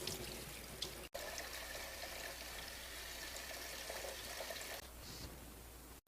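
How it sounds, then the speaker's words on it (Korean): Bean sprouts rinsed under running cold tap water, a steady hissing stream of water with light splashing, close and continuous apart from a brief break. "흐르는 물에 찬물로 한 번만 살짝 이렇게 헹궈 줄게요"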